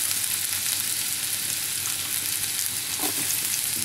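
Cumin paste sautéed with garlic paste in a pan, a steady, dense sizzle holding at one level throughout, with a soft stirring scrape near the end.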